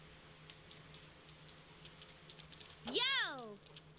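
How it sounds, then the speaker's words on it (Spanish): Rain falls steadily in the video game Persona 4 Golden as a soft, even hiss, quiet throughout, with a brief swooping tonal sound rising and falling near the end. "La lluvia no parece que esté parando esta mañana tampoco."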